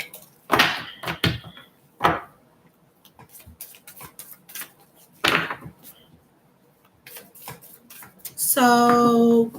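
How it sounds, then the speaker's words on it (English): Tarot cards shuffled by hand at close range: a run of crisp riffling bursts and soft taps with quiet gaps between them, and a voice begins briefly at the end. "I'm doing your card now. Just shuffling."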